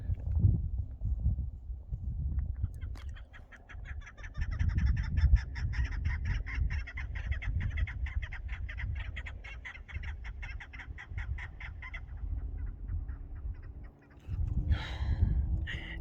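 A rapid, high chittering of many small birds calling together for several seconds over low rumbling background noise, then a brief louder call near the end.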